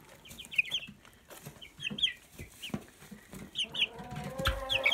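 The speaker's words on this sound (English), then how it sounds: "this little gray here is a rooster. He just started crowing yesterday." A young gray cockerel chick makes squeaky, broken attempts at crowing among repeated high chirps and clucks from nearby chicks, close and fairly clear, with a rougher strained call toward the end.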